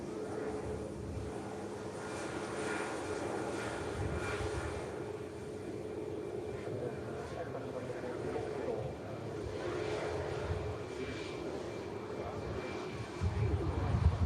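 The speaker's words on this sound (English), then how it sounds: "Just getting a little bit of air there, the ATR." An Aer Lingus ATR 72-600 turboprop takes off, giving a steady, moderately distant engine drone with a faint tonal hum throughout and a slight swell near the end, while someone speaks over it.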